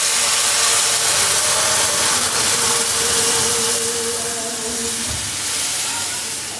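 Dal is tempered with panch phoron for a picnic meal cooked at an outdoor mango orchard. A close, loud, steady sizzling hiss fills the whole stretch.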